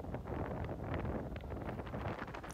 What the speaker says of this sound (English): The wind honestly didn't let up for a second while we were out there.